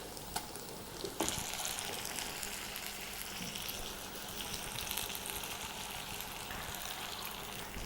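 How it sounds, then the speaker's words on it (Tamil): Ground masala sautéed in a clay pot for village-style fish curry, a faint continuous sizzle with a sharp clack near the start as the paste goes in. "இப்போ இந்த அரைச்சி வச்சுருக்கோம்ல மசாலா, அதை போட்டு அப்படியே உள்ளே வதக்கணும்"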